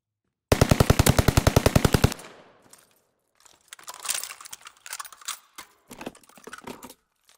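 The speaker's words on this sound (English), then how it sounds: "Shots." In the video game Welgun, a close, loud burst of about fifteen rapid automatic gunshots lasts roughly one and a half seconds. Scattered quieter clattering and impact sounds follow.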